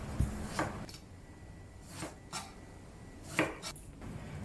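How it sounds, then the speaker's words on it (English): A knife slices through eggplant on a cutting board, giving a few sharp, separate cuts and taps spaced apart, close and fairly quiet with no voices. "Let me start by cutting the eggplants into slices."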